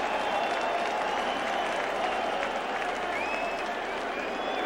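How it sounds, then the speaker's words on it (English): Stadium crowd applauding at an NFL football game between the Philadelphia Eagles and New York Giants, a broad continuous wash of distant clapping and crowd noise with whistles rising through it. "That applause is for Joe Pisarcik."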